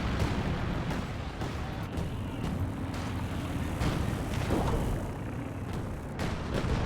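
A Land Mattress rocket barrage in a Company of Heroes 2 4v4 match thuds and booms repeatedly through a dense rumble of battle, with sharp blasts scattered across the whole stretch.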